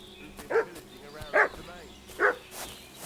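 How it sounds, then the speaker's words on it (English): A dog barks in the Kingdom Come: Deliverance 2 video game, three sharp, evenly spaced barks a short way off over quiet ambient game sound. "What's that dog making such a fuss about?"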